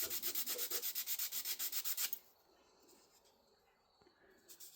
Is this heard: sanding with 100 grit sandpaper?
yes